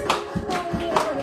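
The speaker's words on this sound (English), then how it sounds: "Clap your hands." Preschool children at a storytime clap their hands along with a movement activity, a few loose, uneven claps over a running song or talk from the leader.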